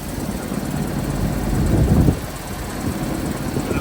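A 2008 GMC 7500 truck with an 8.1-liter engine idles steadily nearby, a dense, even rumble that swells briefly then settles back to a constant drone.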